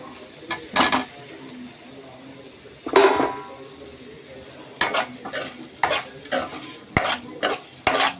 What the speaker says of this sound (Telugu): దీనిలో మనం కట్ చేసి పెట్టుకున్న ఎగ్స్ వేసేసుకోవాలి.